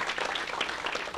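A brief, dense wash of applause from a church congregation, steady and moderately loud, with no clear pauses.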